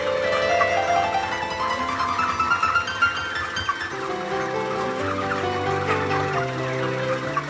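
Farm chickens ready for harvest, a dense chorus of clucking and chattering birds filling the space steadily, close and continuous with no talking.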